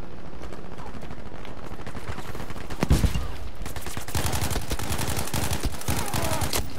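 Bursts of rapid gunfire in the Battlefield 5 multiplayer shooter, loud with a sharp blast near three seconds and then dense repeated volleys, no voices over it.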